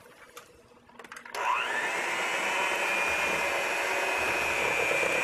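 An electric mixer blends salt into banana bread batter, switching on about a second in and then running as a loud, steady whir that continues to the end, with no talk.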